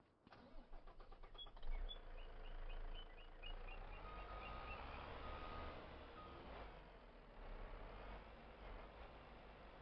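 A truck in a farming video game starts up and emits a series of evenly spaced reversing beeps over a low idling engine. The beeps are moderately loud, and the engine rumble continues steadily afterward.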